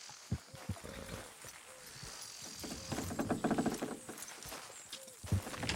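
Horses strain and clop in Red Dead Redemption 2, scattered hoof thuds and clip-clops with creaking and rumbling movement, fairly quiet, some brief vocal sounds mixed in.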